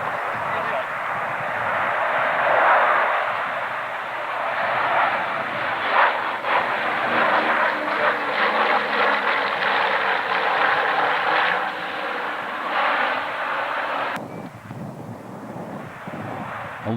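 Droning B-24 bomber engines roar steadily on a windy day, a broad rumbling wash with gusting wind noise over the microphone.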